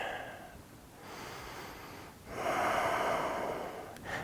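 Slow, audible breaths during a yoga twist in a gentle vinyasa class: a long inhale, then a fuller, louder exhale through the nose, close and alone.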